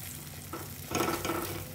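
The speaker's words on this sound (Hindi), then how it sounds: "जब तक हमारा ऑयल रिलीज ना हो जाए तब तक हम इसको भूनेंगे" Cashew and mint green gravy paste with salt frying in a little oil over a slow flame, a steady low sizzle with soft stirring scrapes that grow slightly louder partway through, no voices.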